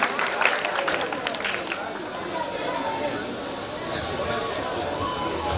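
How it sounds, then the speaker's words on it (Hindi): An audience at a festive cultural program celebrating Kharatar Gachchh foundation day claps in a sustained burst of applause, loud at first and then settling into a steady wash of clapping and crowd noise. "आप सब एक बार जोरदार तालियां बजाइए"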